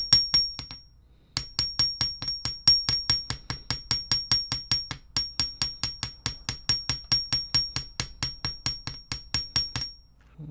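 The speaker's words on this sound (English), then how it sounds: "I want to hammer the other one too" Rapid, steady metal hammer strikes on jewelry wire for wire-wrapped earrings, dozens of sharp ringing blows in a fast even rhythm after a brief pause near the start.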